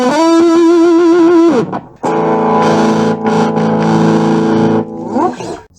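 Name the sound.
Akai Shred-o-matic tube distortion guitar pedal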